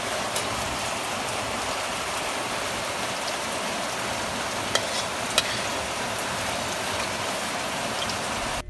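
Heavy rain pours in a dense, steady hiss with no pauses, joined by a few faint, sharp ticks, with no voices.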